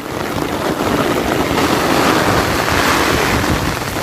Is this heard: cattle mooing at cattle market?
no